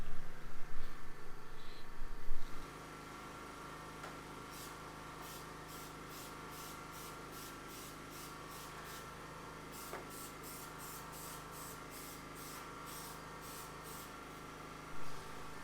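An aerosol can sprays paint onto a Nissan R32 engine bay in a run of short, evenly spaced hissing bursts. The bursts are faint and sit over a steady low background hum, after a brief louder handling noise at the start.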